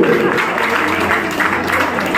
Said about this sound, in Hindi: जोरदार तालियां होनी चाहिए सबके।